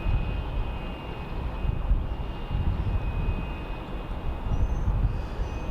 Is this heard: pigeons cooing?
no